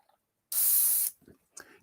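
Airbrush back-flushing fresh thinner at a model-painting station: one loud, steady hiss of spray lasting about half a second, followed by a few short soft sputters.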